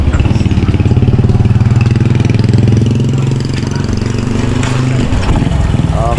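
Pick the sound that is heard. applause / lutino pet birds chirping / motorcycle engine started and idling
motorcycle engine started and idling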